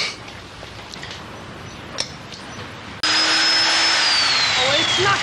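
Faulty drill switched on partway through, a loud steady whine with a sliding high pitch that cuts in abruptly after quieter room sounds and runs noisily to the end.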